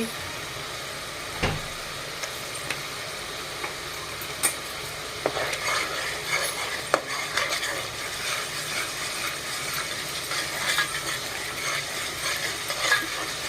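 Chicken fries with ginger-garlic paste in a pan, making a steady close sizzle with scraping and stirring clicks throughout and a few sharper taps of the utensil, with no speech.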